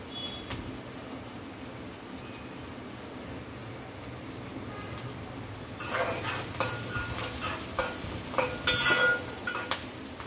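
Onions fry in a pan for fish curry with a faint, steady sizzle. The frying grows louder and busier midway, with scraping stirring strokes and small clatters.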